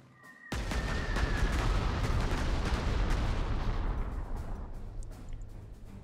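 Artillery fire in the war strategy game Panzer Corps 2: a sudden heavy blast opens into a dense, rolling barrage of booms and crackles that slowly fades over several seconds.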